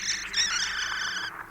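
A thrush sings near a mountainside: a bright, warbling run of chirps and trills, fairly close and steady, with no talk over it.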